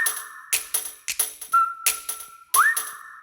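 A tuneful whistle from the opening of a Hamilton song plays over sharp rhythmic clicks and snaps, with held whistled notes and a quick upward slide near the end.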